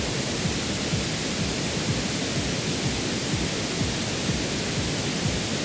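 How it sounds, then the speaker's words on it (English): Steady pink noise used as a mixing reference fills the clip, a constant broadband hiss with a rumbly low end and no change in level, heard alone without speech. "you want to turn on your pink noise and you want to lower the fader"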